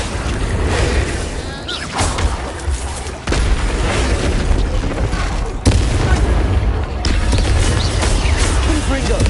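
Confringo blasts go off in the Hogwarts Legacy game as booming explosive bursts, several heavy impacts landing one after another over a dense roar of combat effects.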